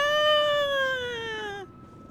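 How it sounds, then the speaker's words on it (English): A single drawn-out cat meow from the video game Lies of P, loud and close, sliding slowly downward in pitch and then cutting off abruptly. "It's a kitty."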